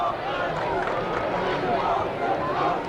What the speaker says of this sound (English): it sounds like the UT players are cheering on the offense